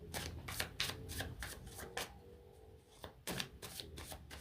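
Tarot cards being shuffled by hand in a quiet room, a steady run of crisp riffling bursts and soft slides, close and fairly loud with no talk.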